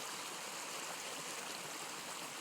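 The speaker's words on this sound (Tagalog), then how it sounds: "Lagaslas ng tubig." Flowing water gives a steady, broadband rushing hiss like a stream, faint and constant for the whole short stretch with no other sounds.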